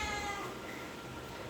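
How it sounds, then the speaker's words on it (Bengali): A pet cat gives a short meow close by, a single quiet call that tails off into a faint background hum. "এটা আমাদের পালিত বিড়াল।"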